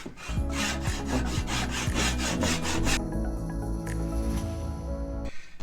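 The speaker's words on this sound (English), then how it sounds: "I'm going to take a little handsaw and just kind of saw it" A small handsaw cuts through wood in quick, even back-and-forth strokes, close and rasping, about a dozen strokes before the sawing slows and scrapes to a stop.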